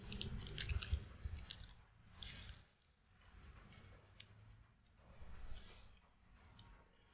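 Someone bites and chews crunchy, slightly melted Japanese Halloween chocolate candy up close, with crisp crunches in irregular bursts followed by quieter mastication.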